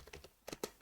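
Quick, light clicks of typing code on a computer keyboard for a C++ tutorial, a short close burst of keystrokes with no talking.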